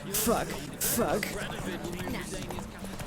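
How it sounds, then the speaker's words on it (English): Horse hooves gallop in The Witcher 3, a quick clip-clop rhythm running under loud, excited talk and game sounds. "Oh my god, the horse is really fast."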